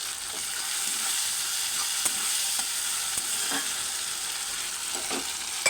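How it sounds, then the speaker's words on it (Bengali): Spice masala being stir-fried in a pan for a potato, pointed gourd and egg curry, with a steady hiss of sizzling oil and soft, irregular scrapes of a spatula running throughout. "এবার ভালো করে মশলা একসাথে ভালো করে কষে নিচ্ছি।"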